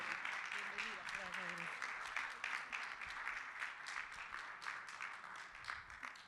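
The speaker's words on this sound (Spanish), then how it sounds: "Les pido un aplauso muy cariñoso para la doctora Flavia López Elizondo." An audience at a conference on ethics in grief gives warm, sustained applause to a female doctor, with a brief voice at the start under the clapping.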